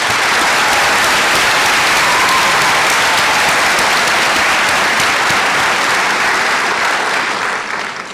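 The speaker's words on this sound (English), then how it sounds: "Please join me in a round of applause for your special guests." Sustained, dense applause from a large crowd at a college commencement ceremony, a loud, unbroken wash of clapping that holds steady for several seconds before easing slightly at the end.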